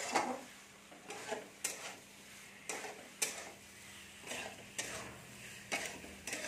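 Fried potato and cauliflower pieces get sautéed in a pan for an egg and cauliflower curry, with repeated spatula scrapes and knocks against the pan at an irregular rhythm over a faint, low sizzle.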